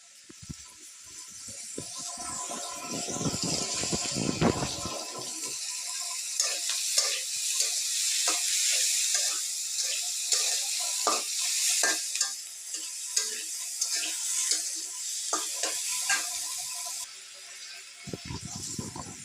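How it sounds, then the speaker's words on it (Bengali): Onions frying in a pan for a restaurant-style bhuna khichuri, a steady close sizzle with spatula stirring and scraping throughout, alone without talk. "তো এখন এটা ভেজে নিচ্ছি পেঁয়াজ বন্ধুরা।"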